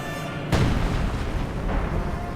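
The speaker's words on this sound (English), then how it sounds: "artillery going in here against field guns, forced to reposition or face destruction" Artillery shells boom in a Company of Heroes 2 battle, a heavy blast hitting abruptly followed by rumbling impacts and a second softer explosion, loud and close.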